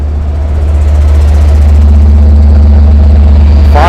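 A Long Island Rail Road diesel engine rumbles steadily and loudly at close range at Westhampton, with a deep, constant low drone that swells slightly near the end.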